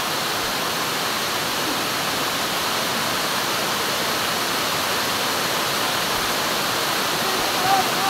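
Banti Falls pours in a dense, steady roar of falling water, loud and unbroken throughout, with a faint voice barely audible beneath it.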